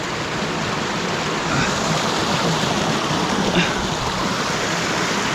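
Cold water rushing down a stream in a secluded natural spot, a steady loud broadband roar close by that holds level throughout with no pauses.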